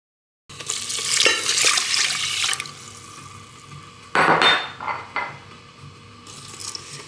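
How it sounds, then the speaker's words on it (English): Rice sizzling and being stirred in hot oil in a pan, a bright crackling hiss with scraping bursts, close and fairly loud, fading and flaring again with each stir. "I do add a little bit of oil to brown the rice."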